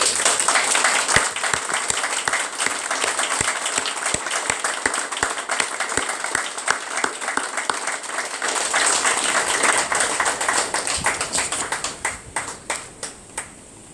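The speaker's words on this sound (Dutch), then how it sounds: "Wij vragen u een respectvol applaus voor deze dappere Surinamers." Sustained, dense applause from a crowd honouring victims of the 8 December 1982 killings in Suriname, holding steady and loud before thinning to a few scattered claps at the end.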